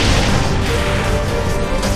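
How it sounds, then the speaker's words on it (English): A loud explosion in the Saints Row IV video game, a dense roaring blast that fills the whole moment with rumbling debris and no talk. "Explosion."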